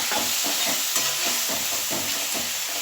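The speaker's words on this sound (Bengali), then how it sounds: "এবার আমি মশলাটা ভালো করে কষিয়ে নেব" Spice paste and tomato paste fry in a pan, giving a steady loud sizzle and hiss with rhythmic stirring scrapes, close up and with no talking.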